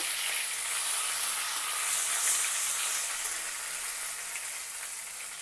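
Mustard seeds, broken dried red chillies, cumin, dal and curry leaves tempering in hot oil for a Konaseema-style dal curry, giving a steady loud sizzle with fine crackling pops throughout, no voices.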